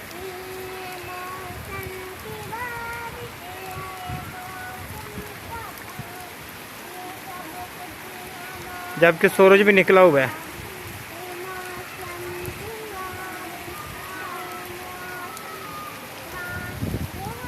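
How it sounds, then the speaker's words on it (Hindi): Steady heavy rain hisses throughout beneath someone speaking, falling while the sun shines, with a brief louder burst of splashing partway through. "मूसलाधार बारिश भी हो रही है"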